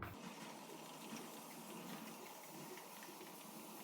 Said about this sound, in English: Going back with the water, I have to wet the back of my hair.